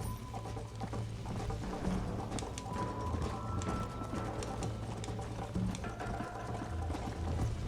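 Horse hooves clop in a steady, repeated rhythm in Red Dead Redemption, moderately close, with faint ambient music and environmental sounds around them.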